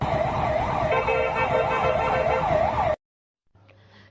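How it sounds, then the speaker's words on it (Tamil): Ambulance carrying a patient, stuck in traffic congestion: a loud wailing siren rising and falling repeatedly for about three seconds, then cutting off abruptly to near silence and a faint low hum. "இந்த நிலையில் வாகன நெரிசலில் நோயாளி ஏற்றிச் சென்ற ஆம்புலன்ஸும் சிக்கியது."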